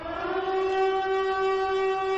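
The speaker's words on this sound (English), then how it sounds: "Do you hear that siren? Because I do." Steady, sustained siren wail with a strong harmonic tone, loud and continuous throughout with no talk.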